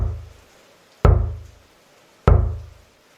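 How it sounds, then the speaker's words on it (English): Two loud, heavy knocks strike a door about a second apart, each a sharp thud with a ringing rattle that fades, in an otherwise quiet room. "This time, the knocking was loud enough to rattle the door."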